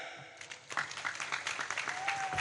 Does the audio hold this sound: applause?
yes